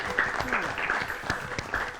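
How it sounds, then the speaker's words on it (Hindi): Applause from a group of children on a school quiz show, steady scattered clapping for about two seconds, fairly close, with voices mixed in. "तालियां।"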